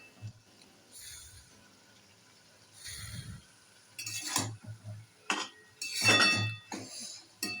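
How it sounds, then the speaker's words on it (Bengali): A metal lid is lifted off a pan of red amaranth greens fried with garlic, giving several bright clinks and clatters of metal on metal, growing busier and louder toward the end with light handling noise in between. "এখন আমি ঢাকনাটা খুলবো।"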